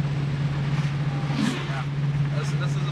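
A 1966 Ford Mustang with a 289 V8 and three-speed gearbox cruises along. Its engine makes a steady, low, even drone that holds throughout, with a faint wash of road noise.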